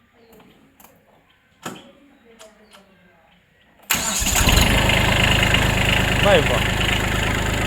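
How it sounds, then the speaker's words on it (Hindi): A small Kubota tractor engine cranks and catches about halfway through, then settles into a loud, steady idle after some quiet clunks and knocks. Someone briefly speaks in the background. "देख लो भाइयों, आवाज़ सुना ट्रैक्टर की"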